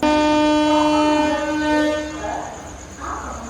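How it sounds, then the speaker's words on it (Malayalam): An Ernakulam-Pune superfast express pulls away from a station, opening with a loud sustained horn blast that fades into the rising rumble of the moving train. "നമ്മുടെ പൂനെ സൂപ്പർ ഫാസ്റ്റ് കറക്റ്റ് ടൈമിൽ തന്നെ ഇവിടെ നിന്ന് എടുത്തിരിക്കുകയാണ്"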